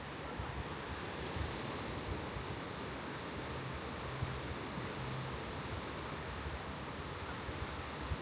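Ocean surf rolling in near a hotel pool on Tenerife, a steady broad wash of breaking waves with wind buffeting the microphone, continuous and fairly loud with no voices.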